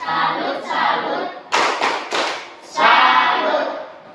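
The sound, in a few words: class doing rhythmic 'tepuk salut' clapping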